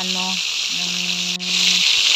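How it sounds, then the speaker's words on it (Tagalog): Pork for hamonado frying in a little oil gives a steady, close hiss and sizzle throughout, with a faint low tone and a brief dip in the crackle partway. "prito lang po natin. Konting mantika lang po."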